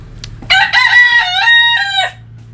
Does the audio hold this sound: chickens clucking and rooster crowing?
yes